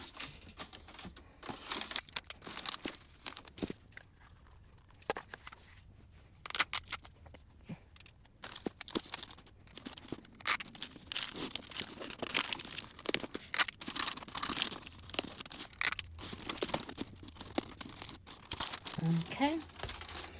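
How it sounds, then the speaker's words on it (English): Tape is torn and pressed onto the crinkly wrapping of a Disney princess castle gift basket, giving busy bursts of rustling, crackling and ripping up close, with a voice talking at times. "So let's just get this taped up."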